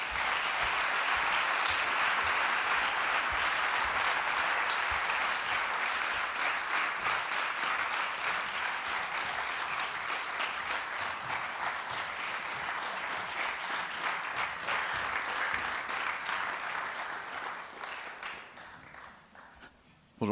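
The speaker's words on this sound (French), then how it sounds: "On les applaudit bien fort." An audience at a theatre season presentation applauds arriving guests with loud, sustained clapping that stays full for most of its length before thinning and fading out near the end.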